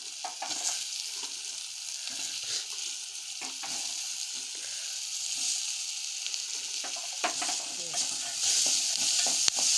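Chickpeas and field beans stir and fry in a pan for a mixed legume palya, giving a steady sizzle with repeated scraping strokes of a spoon, close and alone.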